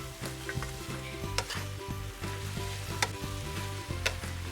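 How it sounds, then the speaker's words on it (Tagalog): Vegetables and noodles sizzle steadily in a hot pan for vegetarian pancit habhab while a utensil stirs and scrapes, giving repeated soft knocks over the constant frying hiss, close and alone. "tapos haluin ulit"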